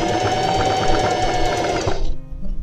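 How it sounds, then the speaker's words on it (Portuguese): A sewing machine stitches a side seam on a pair of jeans, running loud and close in a fast, steady mechanical rhythm for about two seconds before stopping. A brief clunk follows. "Eu vou passar uma costura aqui primeiro"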